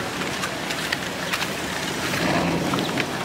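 A loud truck accelerates on a city street near a boardwalk, giving a steady, close engine roar with broadband rumble that swells slightly toward the end, with no talk.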